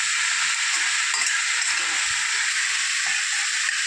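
Chopped ivy gourd pieces frying with turmeric and salt give off a loud, even, continuous sizzle close by, with faint low clinks underneath.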